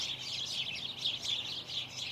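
Small birds chirp and tweet steadily in a backyard among bamboo, a dense, continuous high twittering held at moderate distance with no voices over it.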